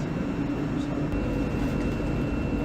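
A ScotRail train running between Carntine and Shettleston gives a steady, close interior rumble with a faint high whine, even and unbroken throughout.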